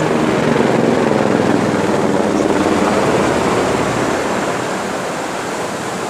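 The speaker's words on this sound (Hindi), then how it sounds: "यहाँ पर हेलीपैड है जहाँ से हेलीकॉप्टर चल रही है।" A helicopter operates from a helipad in the Harsil valley of Uttarakhand, a steady loud broadband rotor and engine roar that holds constant before easing slightly toward the end, with no talk over it.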